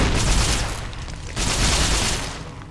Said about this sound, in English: This is where the geckos are, and they're already exploding.